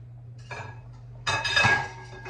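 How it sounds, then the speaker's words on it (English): Pots and cutlery clank while broth cooks in a home kitchen, a few soft metallic taps followed by a louder clattering burst of clinking dishes over a low steady hum. "Sorry for the clank, guys."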